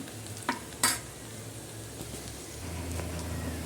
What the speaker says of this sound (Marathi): शक्यतो हे जे वाटण आहे हे आपल्याला लो फ्लेमवरच आपल्याला छान त्याला परतवायचं आहे